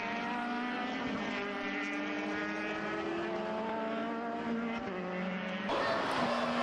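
Formula BOSS race cars drive at Mondello circuit, their engines a continuous loud drone with gliding pitch that shifts as cars pass, then jumps higher near the end.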